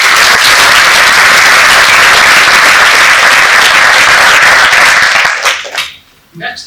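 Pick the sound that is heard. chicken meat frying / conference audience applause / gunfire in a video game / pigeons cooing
conference audience applause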